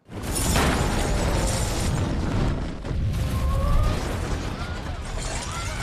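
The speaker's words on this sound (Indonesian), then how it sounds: "melihat tabung gas LPG ukuran 12 kilo dan meledakannya hingga membuat si Biggie hancur dan meledak" A 12 kg LPG gas cylinder blows up in a film scene with a sudden loud, close blast that rolls into a long, dense roar of debris and rumble, swelling again midway before settling.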